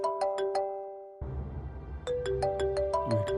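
A mobile phone ringtone repeats its melodic phrase several times, clear and close, with a low rumble of background noise joining partway through.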